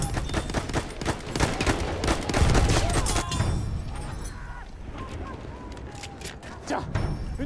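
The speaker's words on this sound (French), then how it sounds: "Présence d'une mitrailleuse." Battlefield 1 machine gun fire in a forest battle, rapid bursts of close gunshots crowding the first half, then thinning into scattered distant shots over battlefield ambience.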